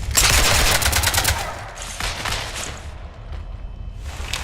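Gunfire in Mass Effect Legendary Edition as a ship gets shot up: a loud, rapid burst of shots for over a second, then scattered further volleys trailing off, with no talking.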